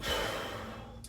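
A single deep exhale during a martial arts class breathing drill, close and breathy, fading out within about a second.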